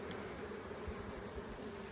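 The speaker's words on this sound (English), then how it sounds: "These bees are really, really done with our manipulations here." Agitated honeybees during a hive inspection just after a swarm, a low continuous buzz close by, with a few louder passes of bees flying near.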